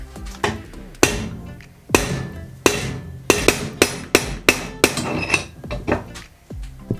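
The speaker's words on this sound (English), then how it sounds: "so I'm going to stop with the hammering for now" A hammer strikes a steel bar clamped in a vise to bend it, delivering a dozen or so sharp, ringing metallic blows at an irregular, quickening pace, loud and close.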